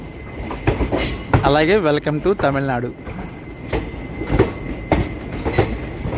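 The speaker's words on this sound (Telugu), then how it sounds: "కాట్పాడి జంక్షన్ 4వ నెంబర్ ప్లాట్ఫామ్ మీదకి వెళ్తుంది మన ట్రైన్." The Meenakshi Express rolls into platform 4 at Katpadi Junction, wheels rumbling and clattering with a brief tonal squeal, while someone talks over the steady train noise.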